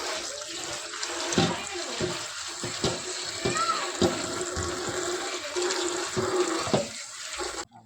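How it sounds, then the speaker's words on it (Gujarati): Castor oil cake is washed by hand in water, with steady splashing and trickling and repeated sloshes and drips carrying on throughout. "આવી રીતે એરંડાનું ખોળ ધોઈ નાખવાનું"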